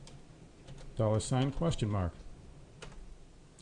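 A computer keyboard gives a few sparse, quiet clicks before and after a short spoken phrase.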